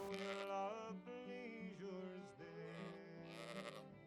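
Sheep on a farm, including Swaledales and blackface ewes, give loud, close, wavering bleats that overlap almost without a pause.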